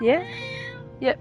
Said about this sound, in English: that's my cat meowing on stream right now.